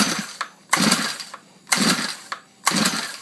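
A Stihl Kombi KM 130R engine on choke being pull-started, with four loud, rough bursts of rasping noise about a second apart, each rising and dropping back as the cord is yanked, close to the microphone and without talk.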